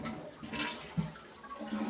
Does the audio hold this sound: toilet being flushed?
yes